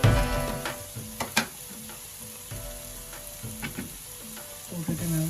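Chilli, cumin and turmeric powders sizzle in hot oil in a pan while a spoon stirs them, giving a steady fry with repeated scraping knocks, close and moderately loud, with no talking.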